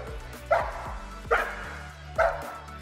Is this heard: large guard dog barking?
yes